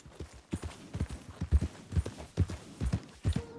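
A horse's hooves clip-clop in Red Dead Redemption 2, with close, distinct, irregular thuds at a trotting pace and a brief faint tone near the end.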